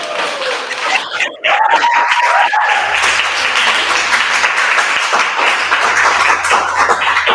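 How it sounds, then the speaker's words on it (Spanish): Audience applause closing a session at an arts congress, a steady broad wash of clapping that fills the room and holds loud after a brief dip near the start. "así damos por concluido con mi aplauso"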